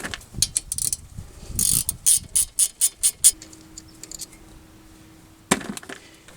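Ratchet wrench loosening front brake caliper bolts on a 2005 Toyota Corolla, a close run of sharp clicking bursts followed by a sustained faint tone and one final clack.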